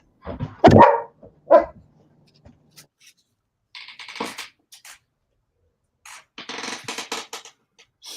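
Dogs bark in a few sharp, loud bursts near the start, followed by scattered softer rustling and clattering sounds with gaps of quiet.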